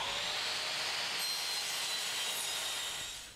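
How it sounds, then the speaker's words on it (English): A Bosch GCM 8 SJL sliding mitre saw cuts through a workpiece, a loud, steady high-pitched whine and rasp lasting about three seconds, then starting to wind down at the end, with no talking. "So that's the GCM8 SJL mitre saw."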